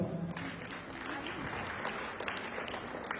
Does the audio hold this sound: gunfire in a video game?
no